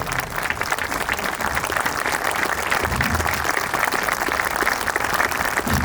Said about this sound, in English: I want to give him a round of applause for his great work